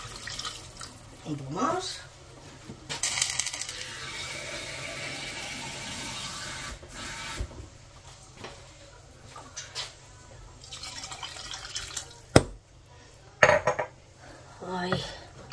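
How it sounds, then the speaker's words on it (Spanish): Water runs from a tap into a pot to cover pork ribs in a home kitchen, a steady pouring flow with clinks of the pot and utensils, while someone talks. "ya lo cubrimos bien de agua"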